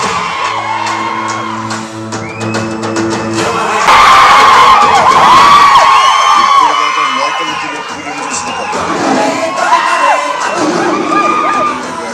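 Fans at a theatre in Tadepalligudem cheer, whoop and shout loudly for the release of the Hari Hara Veera Mallu trailer starring Pawan Kalyan, a dense crowd roar that follows some music and swells then eases.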